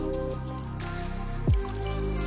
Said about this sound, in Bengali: আস্তে ধীরে করে পানি ছিটিয়ে দিতে হবে